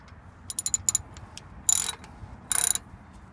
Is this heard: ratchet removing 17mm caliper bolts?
yes